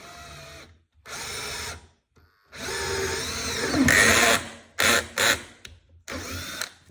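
A power drill whirs into oak in a series of bursts, some long and some short, with brief silences between them, close by.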